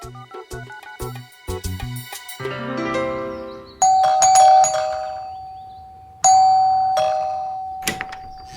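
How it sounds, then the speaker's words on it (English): A doorbell chimes amid busy music, then two loud, clear ding-dong rings follow, each ringing out and slowly fading. "soon the doorbell was ringing"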